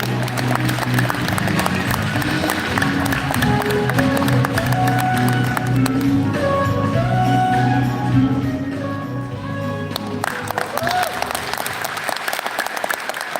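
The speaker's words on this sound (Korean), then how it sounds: "여러분 박수로 환영해 주십시오." An audience at a meetup event applauds to welcome the speaker. The clapping runs continuously for over ten seconds beneath music and voices, easing slightly toward the end.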